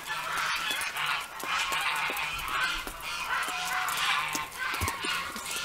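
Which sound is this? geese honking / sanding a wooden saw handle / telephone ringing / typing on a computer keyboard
geese honking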